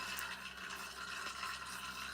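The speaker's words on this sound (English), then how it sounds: "we're going to add the second bottle of essential water." Bottled essential water poured into a container during a live science demonstration, a soft, steady trickle and splash running throughout at low volume with no voices.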